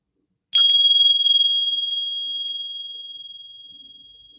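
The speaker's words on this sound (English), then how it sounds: "Opening your ears first to the sound of the bell." A single bright meditation bell strike rings out, then a clear sustained tone slowly fades over several seconds in otherwise quiet surroundings.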